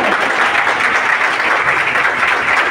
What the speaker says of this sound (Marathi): आता हे तुमच्याच आहेत बघा, टाळ्या वाजवण्याने तुम्ही ठरवा।